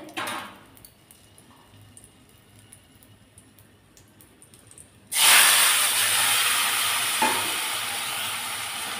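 Vegetable curry is poured onto hot tempering of chillies and sugar, and a loud, sudden sizzle and hiss erupts and then continues steadily, close up, with no talking.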